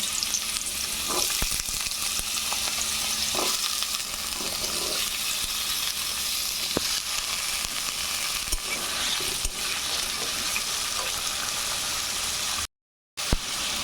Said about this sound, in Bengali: কড়াই গরম হয়ে গেছে, তাতে সর্ষের তেল দিয়ে আলু কেটে রেখেছি, সেগুলো ভেজে নেব